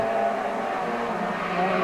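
A yellow Chevrolet Cobalt, a heavily modified production-based race car, at the Trois-Rivières Grand Prix street circuit, with its engine droning steadily and loud throughout, close and continuous, with no voices.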